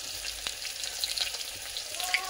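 Onion, garlic cloves and chili fry in a pan with a steady, close hiss and the light scrape of a stirring spoon, a constant bright crackle with no speech.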